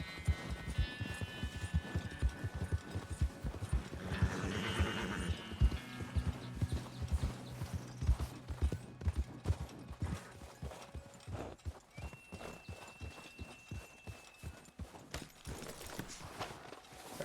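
A horse in Red Dead Redemption 2 walks with steady, close clip-clopping hooves. There is a brief snort or whinny partway through, and the rhythm stays even to the end.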